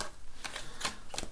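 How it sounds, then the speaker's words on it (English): Playing cards shuffled for a tarot-style reading, heard as three quick, crisp riffling bursts in close, quiet surroundings with no voice. "So I'm just going to give it 2 more shuffles here"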